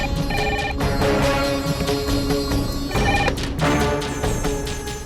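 A telephone rings in an indoor scene from a Hindi TV drama, its electronic ringtone repeating in steady bursts that fill the room, loud and close with no speech over it.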